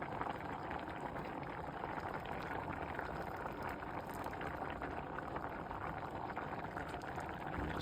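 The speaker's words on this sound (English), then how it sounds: "as you can see that the water is boiling" Water boils in a pot on the stove while cooking chicken biryani, a steady close bubbling and seething hiss that runs unbroken with no voices.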